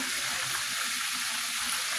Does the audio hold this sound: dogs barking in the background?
no